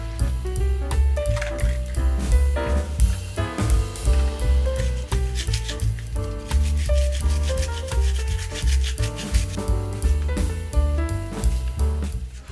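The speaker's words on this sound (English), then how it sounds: "One by one, I wash all the parts, scrubbing away all the old dirt and grime that's built up over the years" Nintendo Wii Nunchuck parts being scrubbed and washed, a steady run of wet rubbing and brushing strokes close up, repeating in rhythm throughout under a continuous music bed.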